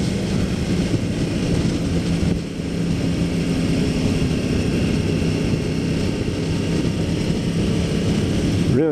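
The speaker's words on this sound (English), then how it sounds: "I really like the sound of this crossplane engine, if that's what it's called. It has a really nice growl." Continuous deep engine growl from a liter-class motorcycle with a crossplane engine, heard at a motorcycle show with a dense, steady rumble and a slight dip partway through, loud and close with no talk.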